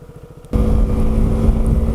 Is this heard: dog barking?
no